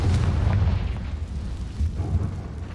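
A Confringo blasting spell explodes in Hogwarts Legacy, a loud, deep rumbling boom that swells and rolls on for a few seconds, close and without speech.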